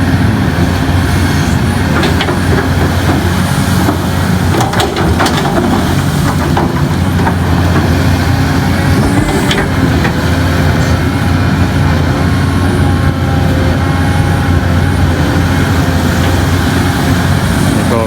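A Caterpillar 320D excavator working in water, its diesel engine a loud, unbroken close-up drone with faint knocks and rattles running through it.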